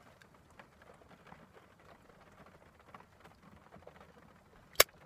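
Rain falling steadily in a park and growing heavier, a soft continuous patter of drops with one sharp, loud tap near the end.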